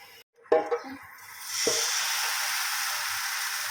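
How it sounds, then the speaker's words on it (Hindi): Pahadi chila frying in a pan after more oil is added: a sharp clatter and a splashy thump at the start, then a steady, fairly close sizzle that swells and holds as a continuous hiss. "इसमें थोड़ा सा और तेल डाल के इसको थोड़ा सा दोबारा से इस साइड से सेक लेते हैं"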